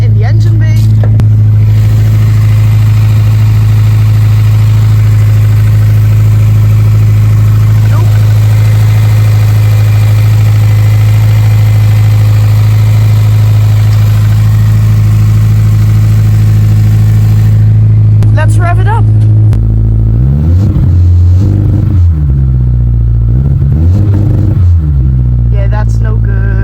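A Honda S2000 idles with a loud aftermarket exhaust, a steady deep rumble held close for most of the stretch, then short revs and shifting engine tones near the end.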